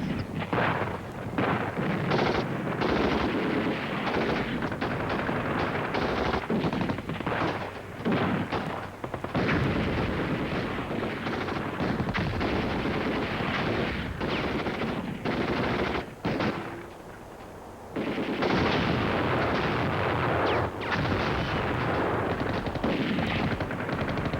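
Mock assault gunfire from German weapons, heavy continuous bursts of rapid shots and blasts that barely let up, loud and dense, with a short lull before the firing resumes.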